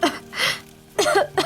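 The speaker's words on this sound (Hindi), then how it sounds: "धुएं से खांसी आने लगती है।" Several short coughs from someone caught in thick smoke from a cooking stove, close and fairly loud, coming in bursts with brief pauses between.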